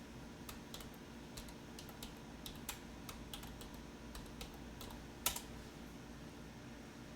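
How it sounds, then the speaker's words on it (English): A computer keyboard taps out a short note on a stock chart, soft scattered key clicks spread over several seconds, with one sharper keystroke, against a faint steady background hiss. "I'm going to type in a note right here."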